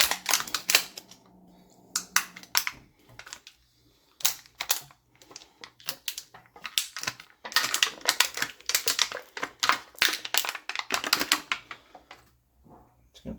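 Plastic backing being peeled off a new toilet wax ring during a toilet replacement gives close, crackly crinkling and snapping in irregular bursts, with short pauses between pulls and no talking.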